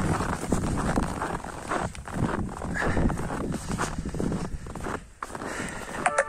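A stallion trots and runs loose on fresh snow, its muffled hoofbeats thudding in an irregular rhythm at moderate distance, with faint shuffling and a brief sharp sound near the end.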